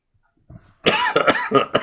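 A single sharp cough, close and loud, preceded by a soft throat noise, with no talking.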